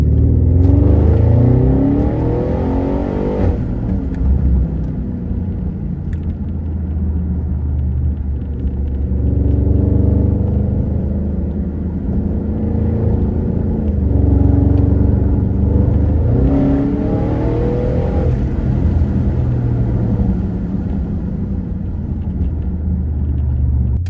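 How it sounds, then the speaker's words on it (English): Upgraded Audi A8L with a near-700-horsepower engine, its exhaust a loud, steady low rumble while driving, swelling with revs through the drive and no talk over it. "Exhaust."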